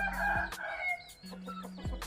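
Chickens and a rooster in a backyard coop: the rooster crows twice in long rising-then-falling calls, with clucking and scattered bird calls around them, fairly close and clear with no talking.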